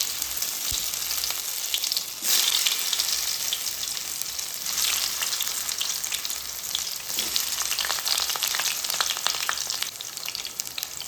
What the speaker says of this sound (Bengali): এখন আমি পটলটাকে ভেজে নেব।